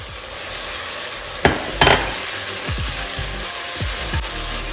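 Crayfish powder frying in a pan for sweet potato porridge, loud close sizzling broken by several sharp scrapes and knocks of a spoon stirring, with no voices.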